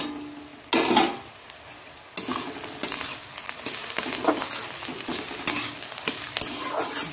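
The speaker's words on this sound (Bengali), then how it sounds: "এবার আদা রসুন আর লঙ্কাটা দিয়ে দিচ্ছি।" Ginger, garlic and chili hit a hot pan for a chicken curry with whole spices, giving a steady close sizzle with repeated scraping stir strokes and utensil clinks against the pan.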